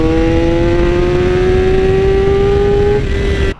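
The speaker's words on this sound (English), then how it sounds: "Full Leo Vince SBK exhaust on it." Supersport motorcycle fitted with a full Leo Vince SBK exhaust, its engine holding a loud, close, steady tone that climbs slowly in pitch for about three seconds before cutting off abruptly.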